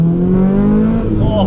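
A modified Phoenix Yellow Honda Civic EK9 Type R engine screams close up as it revs hard into VTEC, a loud, rising high-pitched wail over a brief moment.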